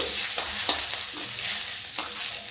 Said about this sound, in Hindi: थोड़ा दूर चेहरा रखें क्योंकि हरी मिर्च के दाने चिटकते हैं बीज